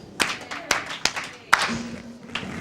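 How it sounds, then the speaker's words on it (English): Scattered, uneven claps from a small audience during a talk on Freedom Schools, a handful of sharp separate hand claps spaced out over a couple of seconds with a faint low hum and murmur behind them. "Do a little soul clap."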